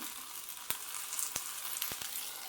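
Sabudana khichdi fries in oil in a pan, a soft steady sizzle with a few sharp pops and crackles scattered through it, fairly quiet and close, with no voices.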